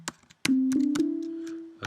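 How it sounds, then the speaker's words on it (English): A pure, smooth analog synthesizer sine wave tone holds steady for over a second after a few soft clicks, then stops with another click. "We've got a sine wave, which sounds like this."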